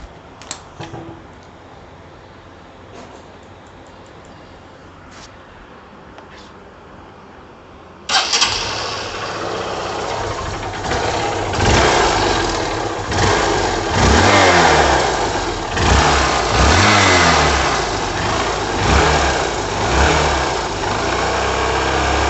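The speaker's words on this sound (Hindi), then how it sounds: "मैंने अभी गाड़ी स्टार्ट की तो एक्सेलरेट तुरंत कर दिया" A Honda motorcycle engine starts after several seconds of quiet, then idles and is revved hard almost at once, with loud, rising and falling throttle bursts close by.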